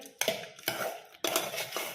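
Wheat rice is being mixed with tempering in a cooking pot: three bursts of metal spoon scraping and clinking against the pot, close and fairly loud, with short pauses between strokes and no talking.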